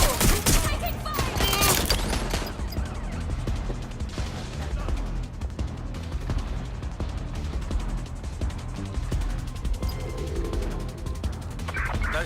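Rapid bursts of automatic gunfire from a firefight in the video game Watch Dogs: Legion, loud and dense at first, then continuing as a rattling barrage with game sounds layered over it.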